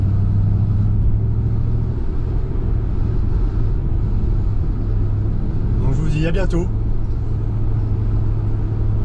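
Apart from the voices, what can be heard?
Ford Mustang Bullitt V8 engine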